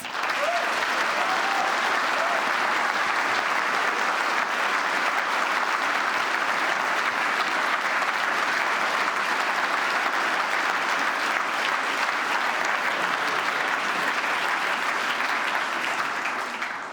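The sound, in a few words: audience applause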